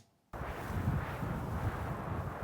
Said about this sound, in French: Ici, on a d'autres mouvements de vent